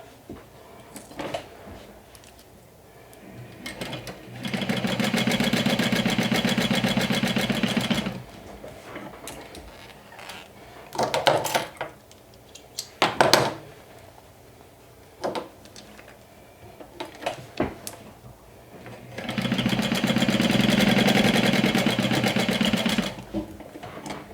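Sewing machine top stitching a fabric casing, two long steady buzzing runs of stitching separated by quieter handling clicks and fabric shuffling, close by.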